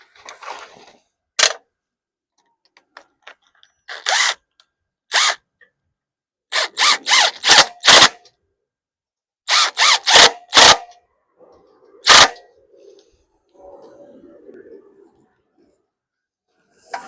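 Short bursts from a DeWalt drill driving fasteners on a 2006 Craftsman push mower, about a dozen brief, loud whirs with pauses between them and faint rustling around them.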